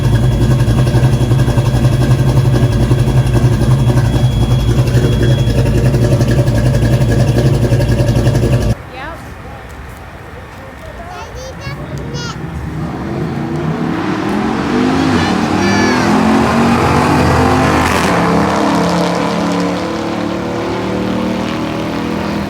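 A Foxbody car's engine with a new cam, first a loud, steady idle with a lumpy drone, then a sudden drop to quieter running before the revs climb and hold in a rising, throaty pull.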